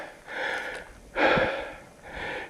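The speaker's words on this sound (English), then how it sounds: "Breathing hard after the climb." Three heavy, labored breaths after climbing stairs in a Karijini National Park gorge, each a loud rush of air with brief pauses between, close and alone.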